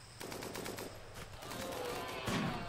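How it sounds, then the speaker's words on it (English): Rapid bursts of gunfire between groups in the RimWorld colony-simulation game, a steady crackle of overlapping shots running continuously and fairly loud through the whole stretch. "guys are shooting each other"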